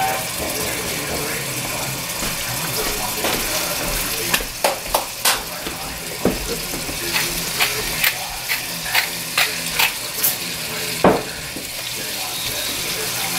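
Chicken pieces browning in a Dutch oven for 40-clove chicken, a steady loud sizzle broken by sharp clicks and clanks of metal every second or so, no voices.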